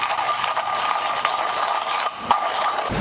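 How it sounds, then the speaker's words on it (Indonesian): Coffee beans go through a grinder for a second grind, a steady close mechanical whirring and crunching that runs throughout with a brief dip near the end. "Terus gue masukin deh yang kedua. Dan giling lagi."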